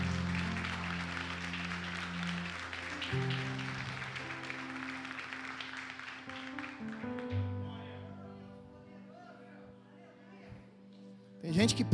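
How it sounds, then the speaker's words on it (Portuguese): Congregation applauding during an evening communion worship service in church, a broad wash of clapping over sustained keyboard chords that thins out midway, leaving the music and scattered sounds. "Aplauda o nome do Senhor aí."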